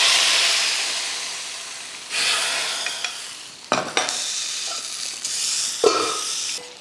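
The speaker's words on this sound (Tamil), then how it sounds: "நான் மேலே கொஞ்சம் வெந்தயம் கருவேப்பிலையெல்லாம் போட்டு கொஞ்சம் தாளிப்பேன்." Fenugreek seeds and curry leaves tempering in hot oil for fish curry, a hissing sizzle that flares up in bursts with a few stirring clinks, close and alone.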